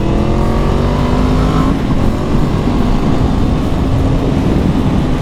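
Blue 2016 Yamaha MT-10 four-cylinder motorcycle, 20,000 km, engine revving hard: a loud, dense, sustained roar with a rising then steadying pitch, close up and continuous throughout.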